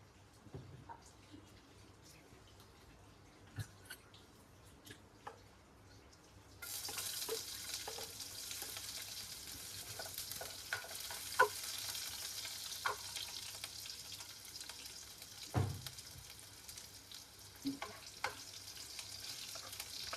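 Sliced onion and chili frying in hot oil in a home kitchen, a quiet steady sizzle that swells louder and brighter partway through as the pieces hit the pan, with occasional stirring clatters.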